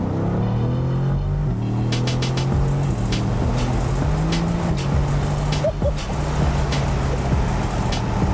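A Mercedes-AMG GT sports car pulls hard along a road, its engine roaring loud and close with rising revs and brief dips between gear changes.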